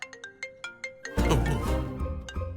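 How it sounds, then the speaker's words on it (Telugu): An incoming-call ringtone chimes from a mobile phone, a short repeating electronic melody of bright notes. It plays alone at first and is then joined by a louder swell of dramatic background music. "ఇది ఇప్పుడు ఫోన్ చేస్తుందేంటి?"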